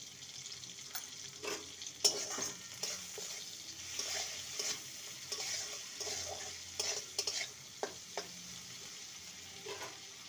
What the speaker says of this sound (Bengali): টমেটোটাকে ভালো করে নেড়ে নেব।